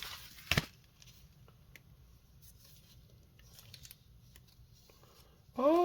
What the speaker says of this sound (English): let's cut this bad boy open